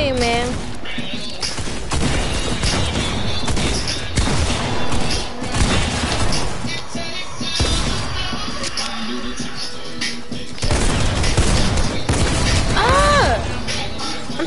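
Rapid SMG gunfire in a Fortnite Team Rumble match, bursts of shots and thuds layered with busy game effects throughout, loud and continuous, with a player talking over it.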